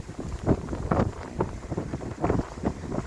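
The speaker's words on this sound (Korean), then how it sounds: "어우 바람 불어." Wind gusts across an open hilltop park pavilion in Baesan Park, Iksan, roaring and buffeting the microphone in a steady, loud rush that swells in waves.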